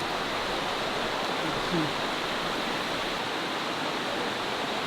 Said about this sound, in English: There's a river down there.